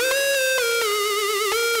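A bright, sustained big-room EDM lead synth plays alone, its pitch gently wavering while a filter sweep slowly reshapes the tone across a couple of seconds.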